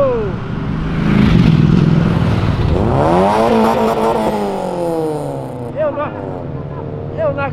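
A Honda Civic and a 400 hp Golf GTI accelerate hard on Avenida Europa, a city avenue. Loud, close engine roar climbs in pitch through the revs, then eases into a lower drone with a few sharp bursts near the end.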